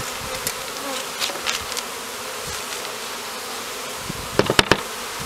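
Honey bees hum in a steady, continuous drone during varroa mite monitoring, with a few sharp clicks and taps near the end.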